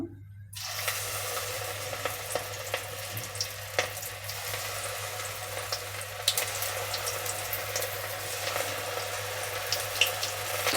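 Cauliflower pieces for gobi manchurian dropped one by one into hot oil, a steady hissing fry that starts abruptly and runs on with small crackles and pops, no voices.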